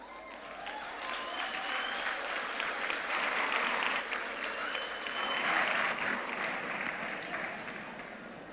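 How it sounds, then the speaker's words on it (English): Sustained applause from the audience at a university autumn graduation ceremony in Gqeberha, a broad continuous crowd clapping that swells slightly midway and carries on for several seconds in a large hall. "Can we give Professor Lloyd and the graduates a big round of applause?"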